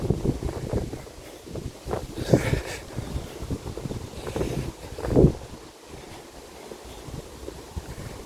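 Strong outdoor wind buffeting the microphone in steady, rumbling gusts that swell and fade, loud and close, with no talking.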